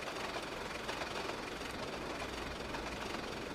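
The Flying Scotsman steam locomotive from the 1920s runs in the train simulator game Trainz: A New Era, giving a steady, dense rumble and chuffing roar that holds at an even level throughout.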